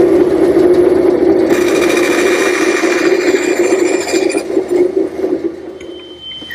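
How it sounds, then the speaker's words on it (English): A bandsaw with a temporary fence cuts a tenon haunch in pine, giving a close, loud, steady mechanical hum with a high whine that shifts as the blade bites. The tone eases near the end of the cut. "I've set up a temporary fence here at my bandsaw, and I'll run the piece in until I meet the previous cut"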